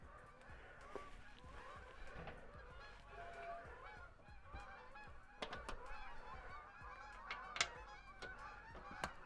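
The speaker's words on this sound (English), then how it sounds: "Wintertime means you gotta love the birds." Geese honking outdoors in wintertime, a dense flock calling continuously with overlapping honks and a few sharper, louder calls standing out, moderately distant and steady throughout.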